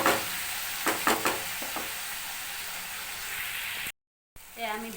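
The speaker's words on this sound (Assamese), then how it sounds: "এই মছলাখিনি দি আমি ভালকৈ লৰাই ল'ম।" Ground spices fry in a pan with a continuous hiss while a spoon scrapes and stirs a few times, followed by a brief silence and a short clatter at the end.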